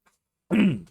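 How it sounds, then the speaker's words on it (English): One short, throaty rasp of a man clearing his throat, close and fairly loud, lasting about half a second after silence. "Let me clear my throat."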